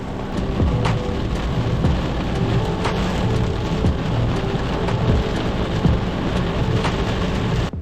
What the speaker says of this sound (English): This rain is absolutely insane. Wow, the thunder is crazy.